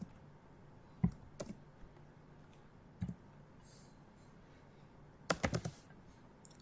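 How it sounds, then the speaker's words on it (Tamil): A computer keyboard is tapped in sparse bursts, a few quiet clicks and short clustered keystrokes separated by stretches of faint room hiss. "நான் அதுக்குள்ளார டைப் பண்ணிக்கிறேன்"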